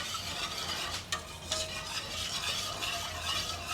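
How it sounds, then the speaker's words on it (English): Lemon meringue pie filling stirred in a pot on a burner while it thickens: continuous soft scraping and light bubbling close by, with a couple of faint utensil taps against the pot and no voices. "You can turn the burner up a little bit if you're going to be here stirring it."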